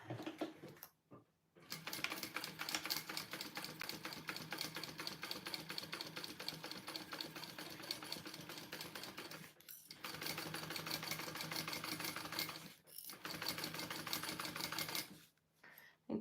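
A home sewing machine stitches steadily with a rapid, even mechanical chatter, pausing briefly a few times between runs; the bobbin is running low while sewing up the Rea pattern by Petal Patterns.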